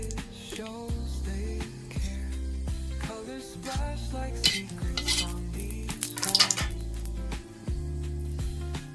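Dried red chilli fries in mustard oil in a pan, a soft sizzle under repeated clinks and scrapes of a utensil stirring against the metal, close up with no voices.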